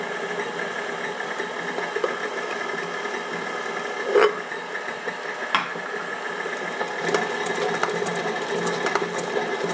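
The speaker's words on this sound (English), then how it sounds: "I lift up my mixer bowl a little bit because the paddle doesn't always get all the way down to the bottom" A stand mixer with a paddle beating butter, sugar and eggs for a Boston cream pie gives a steady motor whir with a rhythmic mechanical hum, close and continuous, with a couple of brief clunks partway through.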